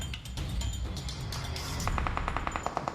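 Rapid gunfire from an enemy on a hill in PUBG Mobile: a dense volley of sharp cracks, followed by a quicker series of distinct, evenly spaced shots at close range.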